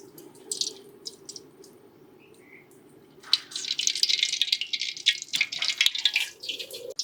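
A litre of cold-pressed groundnut oil goes into a vada pan on the stove. Sparse drips and faint clinks come first, then a steady, close, trickling pour runs on to the end.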